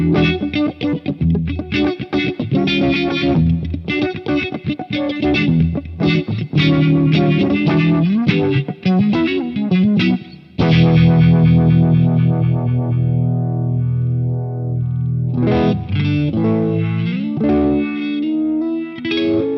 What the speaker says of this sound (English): some of these rotating modulation effects like phaser and Uni-Vibe